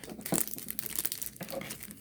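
Plastic film being peeled back on a Fansell Crystal Mandala diamond painting kit, close crinkling and tearing with a sharp crackle early on, then softer rustling.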